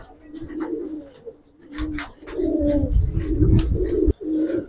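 Coloured pigeons, Gribaz silver coloring birds, coo in soft, repeated throaty rolls that overlap steadily from close by, with no voices over them.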